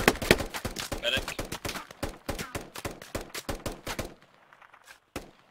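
Rapid bursts of close, loud gunfire ring out in the military shooter Squad, sharp repeated cracks for about four seconds before trailing off, followed by a single late shot.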